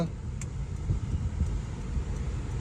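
A 2022 Honda City with a 1.0 turbo VTEC engine pulling away, heard from inside the cabin as a steady low engine and road rumble with a faint click early on.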